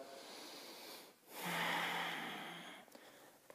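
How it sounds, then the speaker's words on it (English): One slow, deep breath is drawn in and let out close to the mic while holding a pistol squat, quiet and breathy, with a short pause between inhale and exhale. "maybe take a deep breath"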